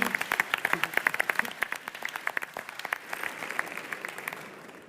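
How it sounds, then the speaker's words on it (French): Audience applause at a live French debate show, brisk and steady clapping from a crowd that stays fairly loud, then slowly thins toward the end. "Vous pouvez les applaudir, mesdames, messieurs."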